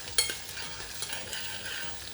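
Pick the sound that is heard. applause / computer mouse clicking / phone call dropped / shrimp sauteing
shrimp sauteing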